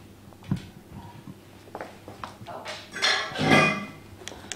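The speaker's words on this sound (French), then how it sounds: "Je continue de travailler avec la maryse pour récupérer le chocolat qu'il y a sur les côtés du saladier." A rubber spatula scrapes melted chocolate from the sides of a mixing bowl, giving close scraping strokes and small clinks that build to a louder scrape near the end, with no talking.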